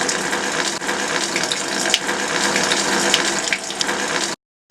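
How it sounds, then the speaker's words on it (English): A postmix drinks gun at a bar dispenses liquid while new product is pulled through the lines, a steady close hissing gush of liquid that stops abruptly near the end, then briefly restarts. "go back to the furthest gun in the bar and pull the new product through"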